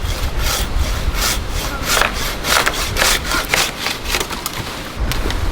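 A hand saw cuts through wood in Chichester State Forest, New South Wales, making a loud, close, rasping push-and-pull rhythm of fast, regular strokes that continues throughout.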